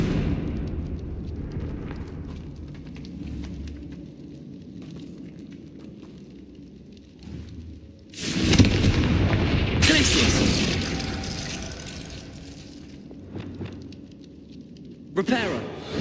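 Fiery Confringo spell blasts in the Hogwarts Legacy game, two loud booming bursts with crackling roar and a sharp pop near the end, set against a low rumbling ambience.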